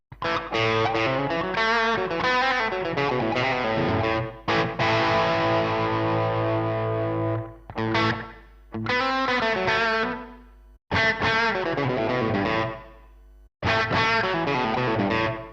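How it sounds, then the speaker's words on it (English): Distorted electric guitar chords and phrases through a Neural DSP NanoCortex doubler effect, with a thickened, doubled shimmer, loud and continuous with a few short pauses between passages. "Let's try the doubler."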